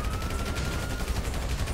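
Rapid gunfire in GTA 5, a sustained burst of loud automatic shots with a steady pulsing rhythm, close and alone.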